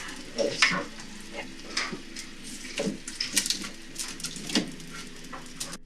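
Leftover rice goes into a pot of vegan congee and is stirred in, giving soft, intermittent scraping and clinking strokes with a faint simmering hiss underneath. No one speaks.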